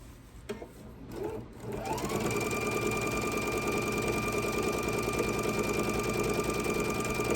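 A sewing machine runs a steady scant quarter-inch seam along the binding of a Noel tree skirt, starting after a couple of seconds of faint handling noise and then humming continuously and evenly, close and alone.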